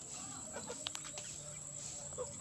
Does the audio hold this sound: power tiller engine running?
no